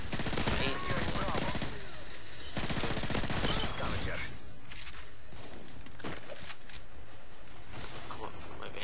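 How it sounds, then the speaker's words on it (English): Rapid P90 submachine gun bursts in Call of Duty MW3 multiplayer, dense sustained automatic fire filling the scene alongside other game effects and a talking voice. "God, I haven't used a P90 for ages."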